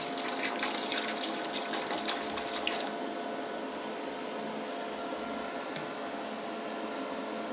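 Water pours steadily into a vessel set to boil on cooking powered by a solar inverter, a close, even rushing stream that thins slightly after the first few seconds.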